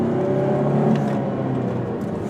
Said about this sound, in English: It shifts smoothly through all the gears.